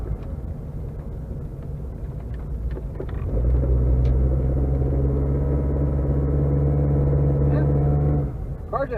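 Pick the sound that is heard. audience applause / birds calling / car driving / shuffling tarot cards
car driving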